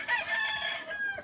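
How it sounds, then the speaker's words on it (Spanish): A rooster at a fighting-cock farm in San José Ojo de Agua crows once, loud and close, its drawn-out call filling most of the moment before trailing off. "aquí los gallos ya están acoplados bien al clima"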